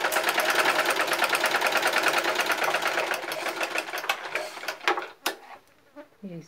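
A sewing machine stitches fabric for a teardrop-shaped piece, with a fast steady whir for about three seconds that then slows into uneven bursts and fades to a few scattered clicks and handling sounds.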